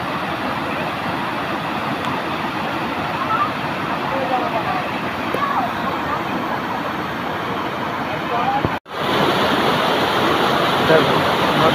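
A waterfall near Ghatsila gives a steady broad rush of flowing water that fills the scene. It cuts out for a moment near the end, then resumes at the same level.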